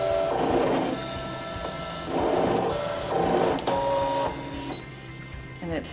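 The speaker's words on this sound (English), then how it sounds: "So I press cut, and then the button, and the machine starts to work." A Brother ScanNCut machine cuts a card in loud, rhythmic bursts of whirring and buzzing as the blade carriage sweeps back and forth, with short pauses between passes.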